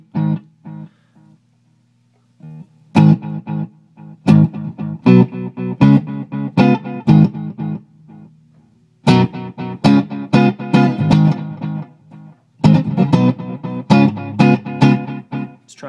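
Electric guitar played through a Digitech Time Bender delay pedal, short plucked phrases and chords each trailed by repeating delay taps that decay between bursts, loud and up close with no talking.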